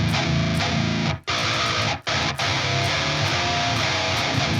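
Electric guitar heavily distorted by a distortion plugin plays dense, saturated chords with a couple of brief stops, loud and close, with no talking.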